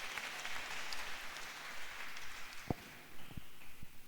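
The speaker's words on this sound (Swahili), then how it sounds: "Pigeni makofi mzee wangu." A church congregation applauds in a soft, steady wash of clapping, fairly faint, with a few sharper knocks or thumps standing out near the end.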